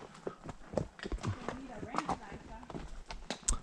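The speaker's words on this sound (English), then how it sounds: "then we'll pony Munchie's horse" Horse hooves clip-clop in a steady walking rhythm during a ranch trail ride, close by and mixed in with people chatting.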